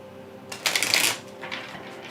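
A deck of tarot cards being shuffled close up, a short riffling burst of rapid papery flutters followed by a softer second ripple, with no talking.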